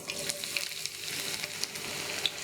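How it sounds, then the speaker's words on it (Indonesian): Onions sizzle and crackle in hot oil, a steady close frying hiss with small popping spikes. "Minyaknya sudah panas, sekarang saya akan masukkan bawang gorengnya dulu."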